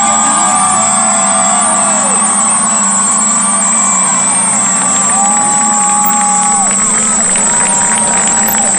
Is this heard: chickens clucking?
no